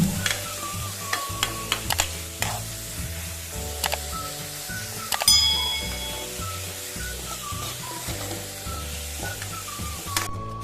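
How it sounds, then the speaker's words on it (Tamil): Onions with a pinch of salt sizzle steadily in a hot pan, with a spoon scraping and stirring in repeated clinks and scrapes, close and continuous. "வெங்காயம் நல்லா கலர் சேஞ்ச் ஆகிற அளவுக்கு வதக்கிக்கோங்க"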